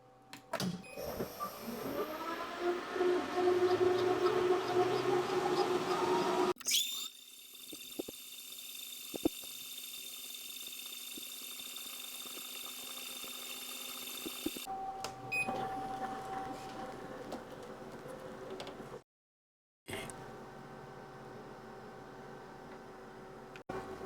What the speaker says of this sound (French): il ne reste plus qu'à lui demander d'effectuer notre gravure